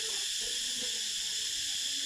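Loud, dense cricket chirping fills the air on a farm in Phang Nga, Thailand, in a continuous high-pitched drone, with no voices.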